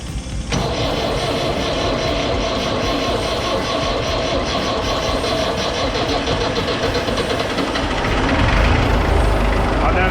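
A tired old diesel forklift with glow plugs cranks and catches, then settles into a loud, continuous rattling clatter with a fast regular knock, growing heavier and rougher toward the end.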